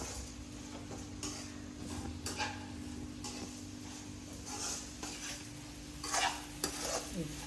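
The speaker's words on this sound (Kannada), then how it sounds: "ಹಿಂಗೆ ಚೆನ್ನಾಗಿ ಎಣ್ಣೆಲಿ ಫ್ರೈ ಮಾಡಿಬಿಟ್ರೆ ಅಷ್ಟು ಕಹಿ ಬರಲ್ಲ" Salt-soaked bitter gourd fries in oil for a palya, a continuous moderate sizzle with intermittent scrapes and clinks of a spoon stirring against the pan, close and with no talk.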